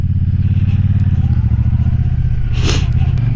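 A 2022 Triumph Bonneville Bobber motorcycle engine rumbles steadily up close, with a brief rising rev burst near the end as it is downshifted; no one speaks.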